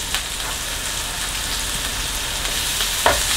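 Ginger, garlic and chili frying in a pan for Caribbean stewed chicken, a dense, continuous sizzle close by, with a small clink of stirring near the end and no talk.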